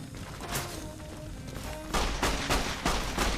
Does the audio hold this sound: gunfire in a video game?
yes